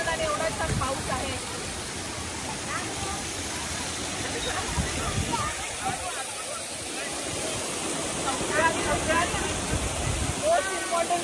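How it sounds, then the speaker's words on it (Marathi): Rain falling in a national park near the Kanheri caves in Borivali, a continuous dense hiss of water that stays steady throughout, with faint voices underneath. "आज एवढं छान वातावरण आणि एवढा छान पाऊस आहे"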